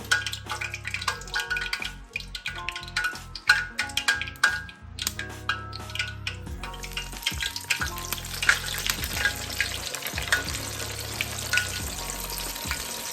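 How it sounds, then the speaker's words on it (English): Big pork chops drop into hot grease and set off a loud, bubbling crackle. Irregular pops and spatters run through it, then the frying settles into a steady, dense sizzle close by. "That there, ladies and gentlemen, is how you test your grease, and it is definitely hot and ready to go."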